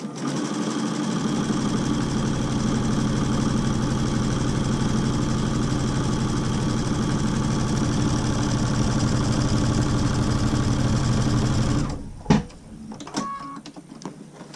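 A sewing machine runs continuously, stitching a quarter-inch seam on a fabric mask, with a steady close motor whir and rapid needle chatter for about twelve seconds before stopping, followed by a few faint clicks and handling noises.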